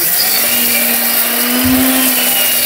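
An electric meat chopper grinder runs in a continuous steady whine, loud and close, with a brief dip partway through and no talking.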